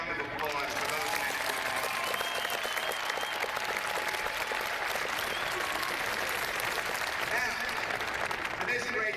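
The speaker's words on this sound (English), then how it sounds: "Let's have a round of applause for those men." Commencement audience at Stony Brook University applauding the armed forces, a steady, even roar of clapping from a large crowd that fills the whole stretch without a break.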